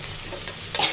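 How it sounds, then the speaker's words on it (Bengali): Okra pieces with sliced green chillies frying in hot oil in a pan while being stirred, a steady close sizzle with a brief louder scrape of the spatula near the end. "নাড়াচাড়া দিয়ে ভেন্ডিগুলো ভেজে নিব"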